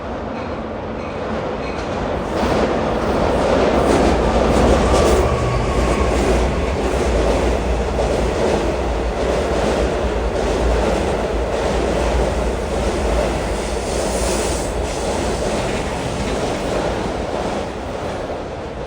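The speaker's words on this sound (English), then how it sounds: "here comes the Z train 7962." LIRR Z train 7962 passing on rails in North Lindenhurst on Long Island, a sustained rumble of wheels and car noise swelling in and holding steady for several seconds, with faint rhythmic clicks and no voices.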